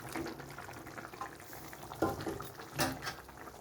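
Fish pieces and fried onion greens go into a simmering fish curry, giving a steady low sizzle and bubble with a couple of louder splashy bursts as the pieces drop in; no one speaks.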